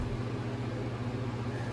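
Electric fans run steadily inside a cargo trailer being framed for a conversion, giving a constant, even mechanical hum with a low drone and broadband whoosh, no talk over it.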